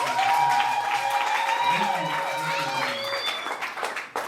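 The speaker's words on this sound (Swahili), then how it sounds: "Ongeza makofi kama unapenda wewe." Wedding audience clapping and cheering in a lively hall, a dense wash of applause carried under continuous chatter and voices, with a bright whistle-like tone drifting through, fading slightly toward the end.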